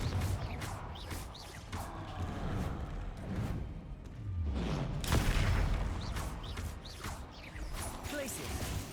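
Confringo fire spells in the Hogwarts Legacy video game burst out in a rapid string of sharp blasts and whooshes, with other spell impacts mixed into the dense battle noise.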